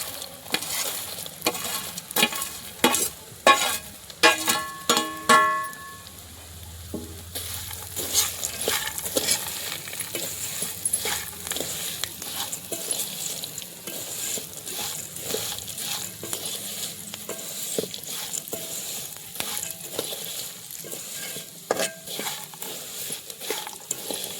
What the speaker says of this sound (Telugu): ముందుగా వేయించి పెట్టుకున్న బెండకాయ పల్లీలను ఇందులో వేసుకోవాలి.